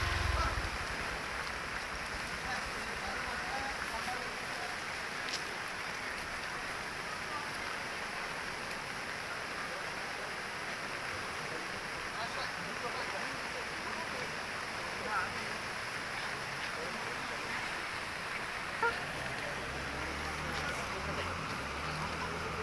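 Heavy rain and floodwater pour steadily in Sumberagung, Pesanggaran, South Banyuwangi, a continuous broadband rush that fills the whole stretch, with people talking over it.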